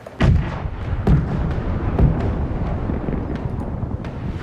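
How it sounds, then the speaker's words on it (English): Heavy ship cannons fire in a naval video game battle, with about three deep booming shots spaced roughly a second apart, each rolling into a low rumble under a constant windy background. "They're firing on us."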